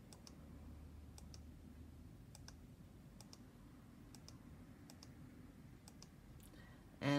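Mouse clicks on letters in an editing program, a sparse series of light, evenly spaced taps over a low steady hum, ending in a brief louder burst.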